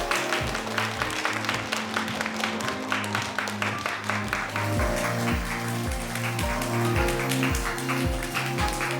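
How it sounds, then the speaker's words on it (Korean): An audience at a game's official user meetup applauds loudly and steadily, dense clapping blended with upbeat event music carrying a thumping bass beat throughout. "큰 박수 부탁드립니다"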